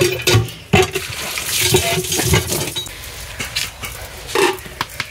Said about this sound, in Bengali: এবার আমি কলে এটাকে ধুতে যাব